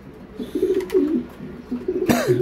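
A young domestic pigeon gives a few soft, throaty coos in short bursts close to the microphone, ending with a sharper rustle or flap, and no one speaks.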